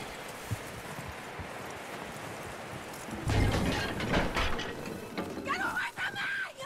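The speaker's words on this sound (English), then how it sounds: "That looks like a decent horse. You should keep him. Get that horse hitched." A horse in the western video game Red Dead Redemption 2: a quiet rustle, then a burst of hooves clopping with tack and mechanical rattles, near and moderately loud, ending with a brief higher whinny-like call.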